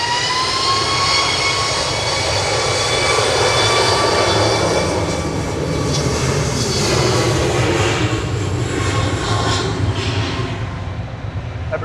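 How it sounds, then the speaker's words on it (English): A SunExpress airliner roars down the runway on its takeoff roll at Manchester Airport, a loud, sustained jet-engine rumble and whine with no break that fades slightly toward the end. "Sun Express on the roll."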